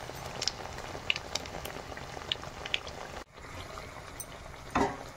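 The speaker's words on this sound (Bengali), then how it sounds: "এরকম করে এক ফুট করে ভেজে নিতে হবে লাল করে।" Malpua frying in oil over medium heat, a steady dense crackle and sizzle with scattered pops, briefly cut off midway and then resuming.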